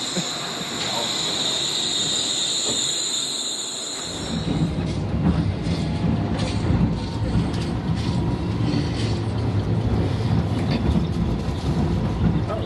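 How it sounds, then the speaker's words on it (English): A Wuppertal Schwebebahn suspended train arrives, its quiet approach giving way to a loud, close rumbling roar with squealing wheels and clattering that continues steadily, with faint talk beneath. "And here's our train."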